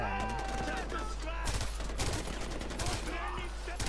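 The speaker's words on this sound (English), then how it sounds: "I've got this new gun that I'm trying out, just unlocked it. It's an F1." An F1 rifle fitted with a silencer and scope fires in a shooter video game, rapid bursts of muffled shots in quick succession, with talk faintly beneath the gunfire.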